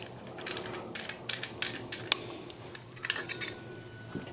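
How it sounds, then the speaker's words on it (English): A metal nut is unthreaded from the arm of a toilet flush lever, giving light, scattered metallic clicks and small taps close by, fairly quiet and with no talking. "Just unthread the nut that's already on there."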